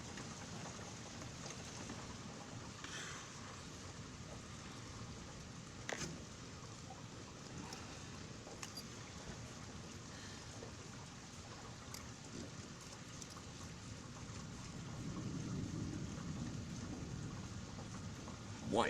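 Steady rain patters through an intense lightning storm, with a faint rumble of thunder swelling near the end and scattered sharp cracks, while a voice speaks occasionally.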